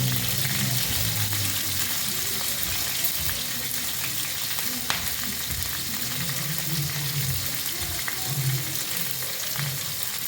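Onion, chili and garlic fry in a pan for a fish egg curry, giving a steady, close, dense sizzle with faint stirring scrapes throughout and no pause.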